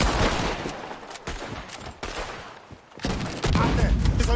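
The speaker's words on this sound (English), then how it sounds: "He's shooting!" Gunfire from a shooter in a tower in the video game Red Dead Redemption 2 comes as dense, rapid volleys of loud shots, with a voice shouting in the mix.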